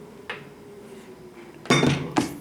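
Parts of a Black & Decker thermal carafe coffee maker being handled during cleaning, giving a soft knock, then a louder clatter of plastic and glass pieces and a final clink, close and brief.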